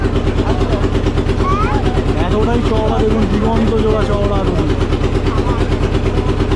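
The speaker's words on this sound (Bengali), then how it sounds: "এবার আমাদের জাহাজটা বাঁধ নিয়ে আবার ফিরে যাচ্ছে" A ship's engine drones steadily while the vessel cruises a wide river estuary where several rivers meet, a loud continuous low hum throughout with people talking over it.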